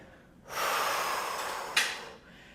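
A strong, forceful exhale during a Pilates reformer workout, a broad airy rush lasting under two seconds with a sharper puff near its end, close and clear, alone with no talking.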